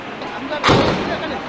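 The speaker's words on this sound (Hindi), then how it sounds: "ये दूसरा धमाका हो गया" A single sharp, heavy boom bursts out and decays quickly against a murmuring background of voices.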